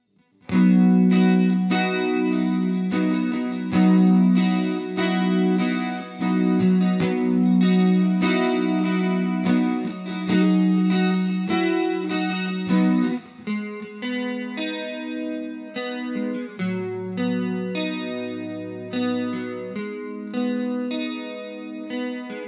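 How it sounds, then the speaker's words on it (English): An electric guitar played through an Ibanez CF-7 Chorus/Flanger pedal on its shimmering, warbling chorus setting, sustained chords and notes ringing out alone, moderately loud. "Here's what the chorus effect on this thing sounds like."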